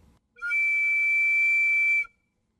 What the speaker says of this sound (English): had war whistles that looked very similar to this, that they wore around their necks